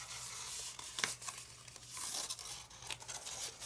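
A square of colored paper is turned over and folded in half during origami, with close crinkling and crisp rustling as the sheet is creased, fairly quiet and continuous.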